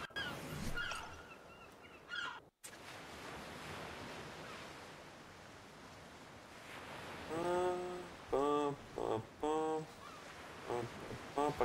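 Pelagornis seabird calls from ARK Survival Evolved, a series of harmonic honking cries in short bursts over a steady wash of ocean surf and wind, with a brief gap in the sound early on.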